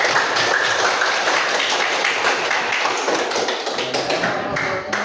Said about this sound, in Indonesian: Ya, sekali lagi kita tepuk tangan bersama-sama.